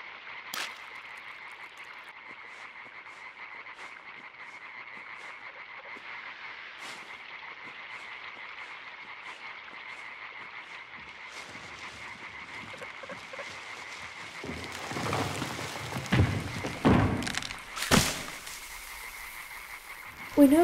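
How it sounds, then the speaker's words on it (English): Frogs croaking around a hidden pond in the video game Limbo, a faint continuous chorus of trilling croaks and insect-like buzzing, with some louder rustling and thumps near the end. "we can hear some sort of like insects or frogs croaking or something"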